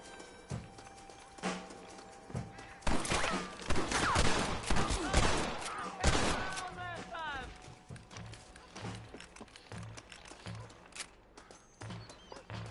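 Gunshots in a video game ring out near Fort Mercer as a cluster of loud sharp cracks. A player talks over them and the shots fade to quieter background game sounds.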